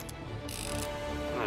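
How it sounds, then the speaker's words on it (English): A gun reloads in the crime game Mafia: Definitive Edition: a quick run of close, crisp mechanical clicks and ratcheting metal over about a second and a half. "Gonna reload!"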